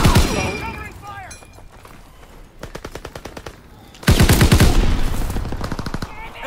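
Machine gun fire in the Call of Duty WWII video game, rapid bursts of close automatic shots, a quieter middle stretch of distant firing, then a loud sustained burst, with voices calling out over the gunfire.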